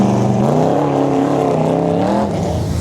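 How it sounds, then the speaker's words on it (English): A 1969 Corvette race car runs its first lap of the day at the Goodguys Raleigh event, its engine a loud, steady, close roar with a rising and falling pitch throughout and no talk over it. "First lap of the day is completed by that Corvette."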